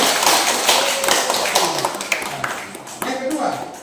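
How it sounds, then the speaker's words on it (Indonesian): Children in a preschool church celebration clap their hands in a burst of uneven slaps, with an adult voice and chatter over the top. "Tepuk tangan semua."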